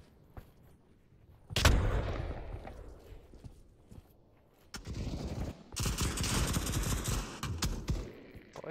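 Pavlov VR gunfight audio delivers a sharp blast followed by scattered gunshots and rattling bursts, with a sustained loud volley of fire in the latter half.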